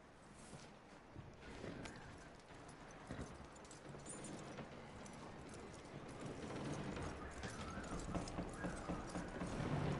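Horse hooves clip-clop steadily in Red Dead Redemption 2, a soft continuous gait with faint creaking tack, low and somewhat distant, building slightly toward the end.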